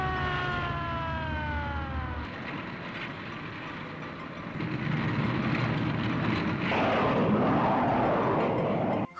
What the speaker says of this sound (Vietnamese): Một đoàn máy bay chiến bắt đầu rời trạm tiến về phía biển.